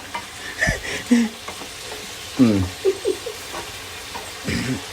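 Onions frying in a pan with ginger paste, stirred with a utensil: scraping strokes and bursts of sizzle come in uneven spurts over a steady low hiss.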